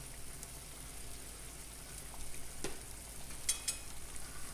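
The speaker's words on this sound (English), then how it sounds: "We're going to cook this sauce down." Tomato sauce cooking down in a pan gives a soft, faint sizzle and bubble close by, with a couple of light clinks near the end and no talking.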